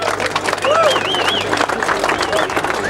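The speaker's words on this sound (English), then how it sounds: "Ladies and gentlemen, give him a big round of applause." Crowd applauding dragster driver Russ Carpenter beside his Daimler Hemi fuel dragster, brisk dense clapping with cheering and a few whistles over the top.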